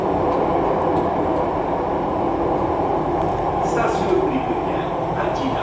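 Steady rumble and rattle of a moving Jakarta MRT carriage, heard from inside, with faint voices and small clicks over the continuous rolling noise.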